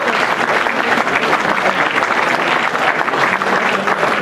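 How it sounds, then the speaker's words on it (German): An audience at a press conference for the Hannover Indians versus Langenhagen Scorpions ice hockey game gives a sustained round of steady clapping that fills the room, with no other sounds standing out. "Dafür auch nochmal kräftigen Applaus."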